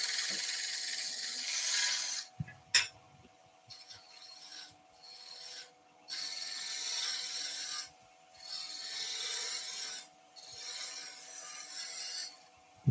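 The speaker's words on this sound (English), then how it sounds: "I'm going to come up to that area with a little lip. Do that with the bowl gouge." Bowl gouge cutting a coloured rippled ash bowl spinning on a wood lathe, a close, steady rasping scrape in several long passes separated by brief pauses, with a faint mechanical hum underneath and no talking.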